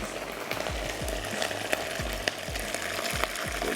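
Garlic and other ingredients for a Sindhi khurak sweet fry lightly in a pan. A steady, close sizzle runs throughout, broken by repeated soft thumps of stirring.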